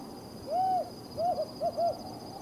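Lilith owl in the canyons of eastern Israel gives a haunting call: one drawn-out hoot followed by a quick double hoot and two shorter ones, clear and fairly close against a quiet night background.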